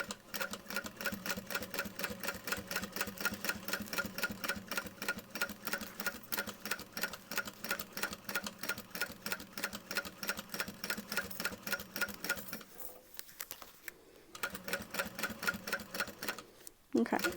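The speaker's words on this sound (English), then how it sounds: "hold my breath while I top stitch" A sewing machine topstitches a leather convertible backpack at a longer stitch length, a fast rhythmic clatter of needle strokes running steadily before brief pauses near the end, with a voice speaking faintly.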